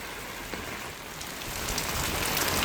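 Very heavy rain pours during a thunderstorm in the Philippines, a dense, steady hiss that swells louder toward the end, with no voices over it.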